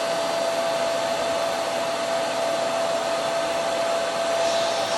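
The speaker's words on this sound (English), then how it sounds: "Like a pretty powerful vacuum. It's not too loud." A Hart upright vacuum cleaner runs at a constant, loud whirring drone with a steady high whine and no pauses.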